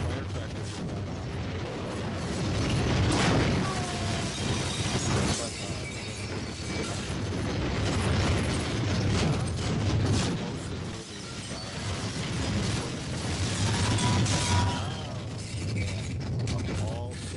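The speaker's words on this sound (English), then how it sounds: "Firecrackers are going off." Firecrackers go off in the video game High on Life: a dense, continuous crackle of rapid pops and rattling bursts, loud and sustained for the whole stretch, with no talking over it.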